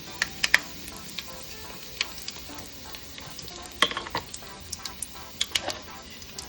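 Fenugreek seeds fry in hot oil for puliyodharai, giving a faint, steady sizzle broken by scattered sharp crackles and pops, with stirring and no one talking.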